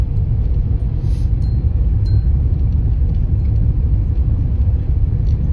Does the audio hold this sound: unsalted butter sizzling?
no